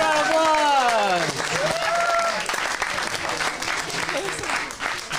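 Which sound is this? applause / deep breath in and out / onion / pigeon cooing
applause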